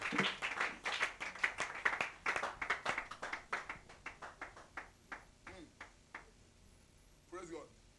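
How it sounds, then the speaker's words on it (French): A congregation claps in unison during a church worship service, producing a steady, rhythmic run of sharp hand claps that gradually softens, with voices underneath. "Donnez-lui des mains d'acclamation."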